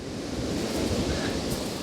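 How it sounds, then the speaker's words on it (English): Waves breaking and washing over the shingle of Chesil Beach in Dorset, a steady, loud roar of surf and dragging pebbles with wind buffeting the microphone, no voices. "when the waves come in at Chesil, they bring the shingle with it"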